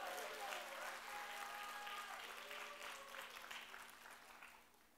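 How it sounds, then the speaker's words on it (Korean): A church congregation at a Sunday afternoon service claps and cheers after students moving up to middle school are asked to stand, a steady mass of applause that holds for several seconds and slowly fades. "함성을 좀 질러주세요"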